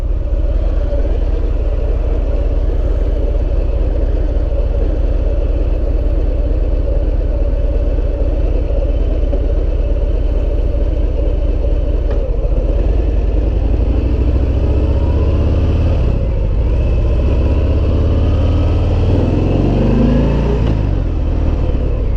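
A Harley-Davidson Fat Bob motorcycle engine runs loud and steady throughout, a deep continuous rumble that swells and shifts near the end as the bike pulls away, with no talking.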